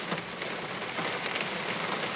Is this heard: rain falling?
yes